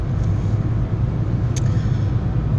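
Car driving along a road, a loud, steady low engine and road rumble from inside, continuous throughout with one brief faint click near the middle and no talk.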